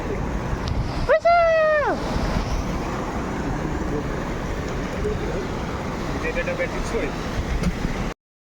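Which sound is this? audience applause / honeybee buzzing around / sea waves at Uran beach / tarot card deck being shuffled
sea waves at Uran beach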